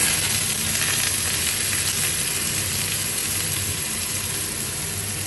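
Potato pieces fry in a little oil in a wok, giving a dense, continuous sizzle that stays steady and close throughout with no voices.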